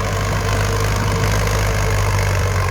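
A Ford tractor engine idles loudly and steadily nearby, a constant low rumble and drone with no breaks.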